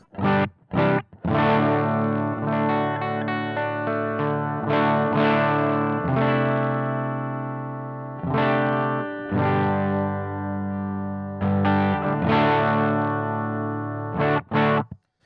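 Electric guitar played through a Love Pedal English Woman overdrive pedal at minimum gain, clean-ish chords and single notes ringing with slight grit, phrases separated by brief pauses, no voices.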